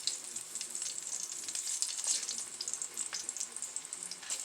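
Continuous crackling sizzle of plantains frying in hot oil, close and busy with scattered pops throughout, no voices.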